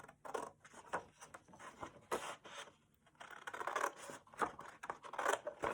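Scissors cutting along a line through paper for a handmade sketchbook, a close series of crisp snipping and scraping strokes with short pauses between them.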